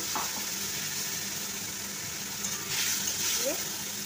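A chilli, green chilli and ginger spice mix is poured into potatoes frying in a pan, giving a steady, loud sizzle that briefly swells as the mix hits the oil.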